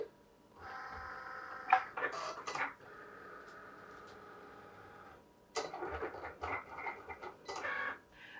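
A Cricut machine cuts white iron-on vinyl with a buzzing motorized whir. The whir stops and starts in segments and is broken by short clicks and mechanical rattles, close and moderately loud.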